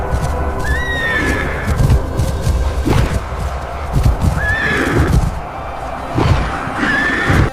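A herd of prehistoric horses neighs and whinnies repeatedly, several loud close calls rising over a steady rumble of pounding hooves and clip-clop across the ground.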